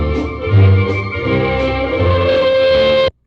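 A worn vinyl record effect on an old-style recording: a dense, tonal, heavily distorted musical passage, loud and continuous, cutting off abruptly after about three seconds.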